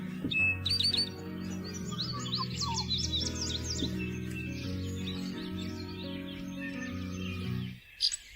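Small birds chirp and tweet in quick, bright bursts, several calls overlapping over a low steady hum, fairly faint and continuous before cutting off near the end.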